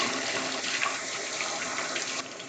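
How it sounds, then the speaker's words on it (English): Water runs steadily from a tap as hands are rinsed in a kitchen, a close, continuous splashing rush that stays constant with no talk. "Let me rinse my hands"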